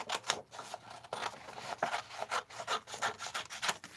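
Scissors cut through junk mail paper along a score line, a close, rhythmic series of crisp snipping and rasping strokes repeating steadily without any voices.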